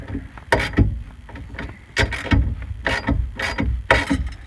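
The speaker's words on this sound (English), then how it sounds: "I'm gonna go ahead and tighten my nuts and bolts down." Nuts and bolts tightened down on a small fire extinguisher mount for a track car, heard as a series of close, irregular metallic clicks and wrench-like ratcheting bursts with brief pauses between.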